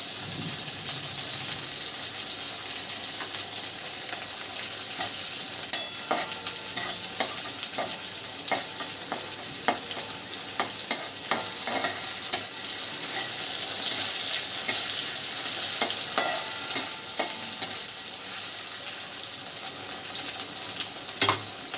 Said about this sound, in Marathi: कांदा छान असा परतला आहे आता टमाटे टाकते